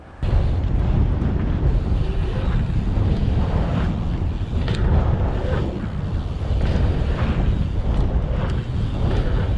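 Strong wind buffets the microphone at a ski jump trail in a loud, rumbling roar that surges and eases, with rushing water beneath it.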